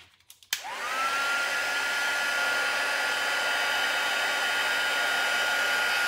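An embossing heat tool used on a handmade card switches on with a click and blows a steady, loud whooshing roar that holds without a break.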